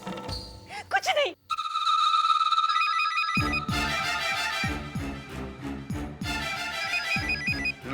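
A telephone rings repeatedly in an indoor home scene, a loud electronic ringtone pulsing in a steady rhythm after a brief burst of dramatic music.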